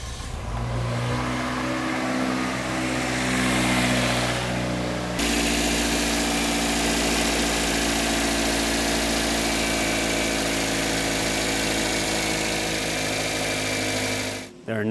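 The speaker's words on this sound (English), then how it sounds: "All right, let's start the engine." Toyota Corolla engine, 2003-2008 model, cranks and catches, then settles into a steady, even idle that runs on loud and close for most of the stretch, with no one talking over it.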